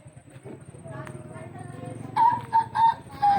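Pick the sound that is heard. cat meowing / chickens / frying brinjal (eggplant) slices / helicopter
chickens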